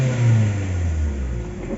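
A Kia Soul with a hard-starting fault idles after cranking, giving a steady low engine hum with a slight swell in revs near the start, close and fairly loud.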